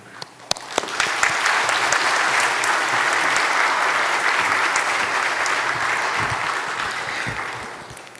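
A church congregation applauds at a Friday prayer service, steady sustained clapping that swells after a second and holds loud and dense to the end, with no voices over it.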